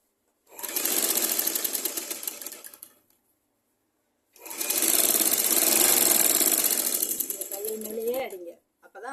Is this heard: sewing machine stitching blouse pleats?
yes